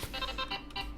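A phone ringtone plays with a repeating electronic tone pattern, fairly loud and steady over about a second, heard alone while playing Terraria.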